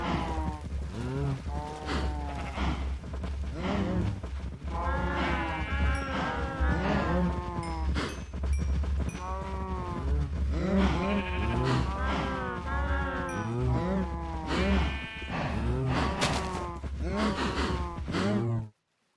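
Cows mooing and bleating over and over during breeding in the Minecraft video game, close and clear, in overlapping calls with a steady low hum beneath.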